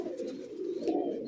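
Domestic pigeon cooing softly and close, a low throaty coo rolling on continuously through the whole moment, with no voices over it.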